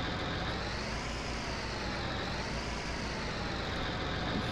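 A red semi-truck engine idles in Farming Simulator 19 on a dairy farm, a constant dense rumble that holds steady throughout and is close and alone, without talk.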